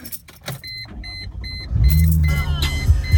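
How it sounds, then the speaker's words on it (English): A Chrysler Crossfire's engine is started: clicks and electronic chimes from the car come first, then the starter cranks and the engine catches into a loud, steady idle. "Just going to go ahead and start the car."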